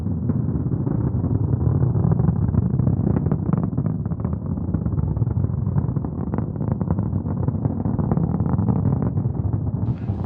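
The six first-stage engines of the rocket launching the Nauka science module roar in a steady, dense, muffled rumble that holds unbroken for about ten seconds.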